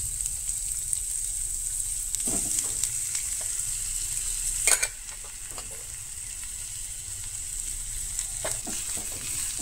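Grated coconut with onion roasting and being stirred in a home kitchen pan for Goan stuffed baby brinjal, a steady close sizzle with occasional scraping stir strokes and no talk.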